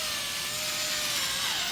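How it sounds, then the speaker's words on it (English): A sanding sponge rubbed over a foggy Honda Odyssey headlight lens, giving a steady, even scratchy hiss that continues without pause, close and moderately loud. "Just trying to let the sanding sponge do its job."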